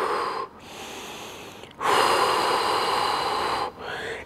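Heavy, loud breathing follows a Spartan workout interval: long rushing breaths close to the microphone, separated by brief pauses, with no talking.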